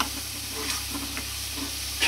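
Cumin, turmeric and chili paste sautés in a pan for a tangra fish curry, a loud continuous sizzle with scraping stirs and a sharper clatter near the end.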